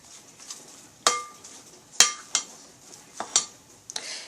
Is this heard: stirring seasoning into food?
yes